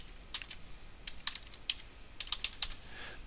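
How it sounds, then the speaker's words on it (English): Keystrokes on a computer keyboard while entering a new account into accounting software, a few scattered clicks and short bursts at close range in a quiet room, with no talking. "I'm going to type in the new account."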